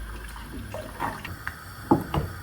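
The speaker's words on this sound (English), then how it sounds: "you can add as much or as little water as you want depending on the consistency of the porridge that you desire" Water poured into a pot of porridge, a soft trickling and splashing with a few louder gurgles and splats near the end, close and fairly quiet with no talk.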